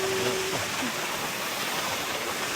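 Waterfall at Minneopa State Park, Minnesota, a constant broadband roar of falling water close by, steady and unbroken, with a faint brief tone near the start.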